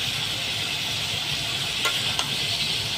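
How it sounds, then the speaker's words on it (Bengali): Taro stolons and shrimp tossed together in a hot pan: a steady, loud sizzling hiss fills the clip, with a couple of faint spatula scrapes near the end. "কচুরলতি আর চিংড়ি মাছ একসাথে ভালো করে মিশিয়ে নিব।"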